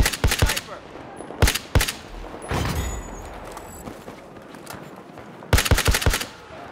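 Bursts of rapid gunfire crack out in the Battlefield 4 video game, clusters of sharp shots at the start, in the middle and near the end, separated by quieter stretches of ambient noise.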